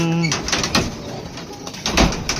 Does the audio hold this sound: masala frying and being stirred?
no